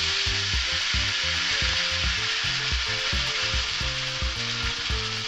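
Bay leaf, dried chillies, five-spice and ginger fry in oil for a bitter gourd teto dal, a constant bright sizzling hiss heard under rhythmic background music, with no talking.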